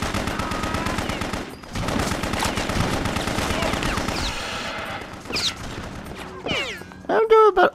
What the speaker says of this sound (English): I think I'm in the right area because I'm getting shot at.